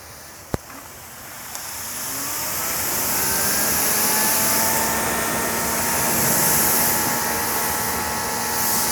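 A GreenWorks pressure washer with a 4.0 nozzle runs loud and steady, its motor whine swelling and holding after two sharp clicks at the start, with no voices.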